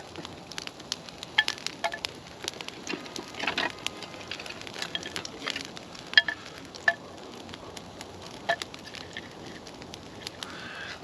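Birch kindling burns in an outdoor fire beside tarp shelters, giving scattered sharp crackles and pops over a steady, faint hiss.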